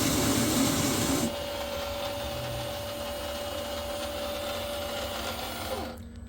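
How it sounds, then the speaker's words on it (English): A well-water softener's control piston resets itself before the next regeneration cycle: a short burst of louder motor whir gives way to a steady mechanical hum with a faint tonal whine, then quickly dies away. "The piston is resetting itself."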